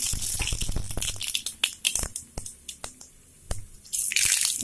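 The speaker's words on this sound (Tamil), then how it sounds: "இந்த பக்கம் எண்ணெய் ஊற்றி கடுகு" Mustard seeds pop and crackle in hot oil for a Tamil paruppu usili tempering, giving dense, irregular sharp bursts close up that thin out briefly before another loud sizzling flurry.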